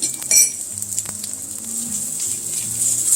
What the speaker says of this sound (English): now I want to saute my garlic, and I don't want it to burn up